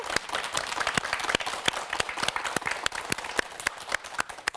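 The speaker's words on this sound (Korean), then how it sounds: "우리 그런 교회를 위해서 박수 한번 칠까요?" Audience at a Korean church lecture applauds steadily, a dense wash of many hands with sharp individual claps standing out throughout, fairly close and sustained without pause.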